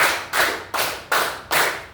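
Five sharp, evenly spaced group claps ring out close and loud as schoolchildren play a counting clap game, each hit about 0.4 seconds after the last, with no voices over them.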